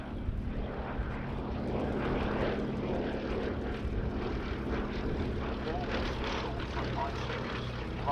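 Westland Lysander propeller aircraft flying at The Victory Show 2022 air display, a steady droning radial engine heard at a distance, continuous throughout with faint crowd ambience.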